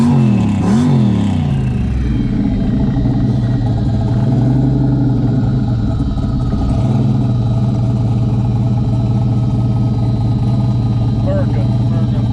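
A car engine fitted with a turbo air filter revs and rises in pitch, then settles into a loud, steady drone close by, with people talking over it.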